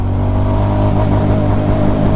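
A Honda CB350 RS motorcycle pulls hard in second gear, its engine giving a loud, steady, deep thrum with no voices over it.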